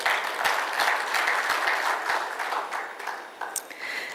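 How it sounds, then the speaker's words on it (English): Audience applause at an investment forum session, a steady dense wash of clapping that carries on throughout and thins slightly near the end. "I think all of those deserve a round of applause."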